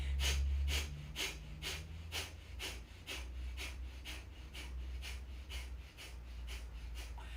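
Rapid, rhythmic breaths during a yogic breathing practice, roughly a dozen sharp forceful exhales in quick, even succession, close and fairly quiet over a low steady hum.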